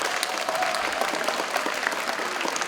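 Camp audience giving a round of applause, a dense, steady wash of many hands clapping at moderate loudness for the whole short stretch, with a few faint voices mixed in.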